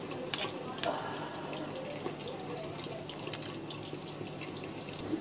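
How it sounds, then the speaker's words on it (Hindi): Water trickles and splashes into a pan of homemade milk burfi mixture made with colostrum milk, a faint steady pour with small drips and clinks in a quiet kitchen. "देखिए पानी भी मैं डाल देती हूँ इसमें।"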